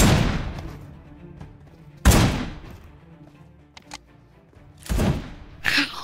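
Sniper rifle fire in a video game: a handful of sharp, loud shots spaced irregularly, each followed by a short decaying tail. Quieter game sounds play between them.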